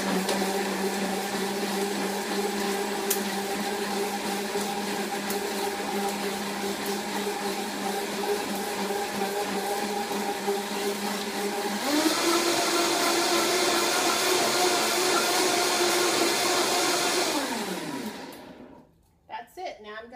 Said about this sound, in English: I'm just gonna blend until it's well combined